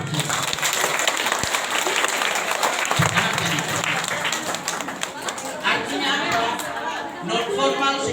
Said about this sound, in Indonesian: Tepuk tangan untuk Bisori.